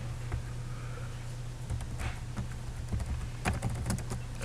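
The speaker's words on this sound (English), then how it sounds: "I'm going to type it out for you just to make sure." Numbers are keyed into a calculator in a quick, irregular patter of light plastic button taps, close to the microphone over a low steady hum.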